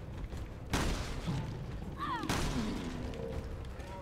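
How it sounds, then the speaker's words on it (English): Gunshots fired at an enemy in Resident Evil Revelations 2, two sharp loud bangs about a second and a half apart, each ringing out briefly over low game ambience, with a faint whooshing effect between them. "All right, I'll shoot his legs."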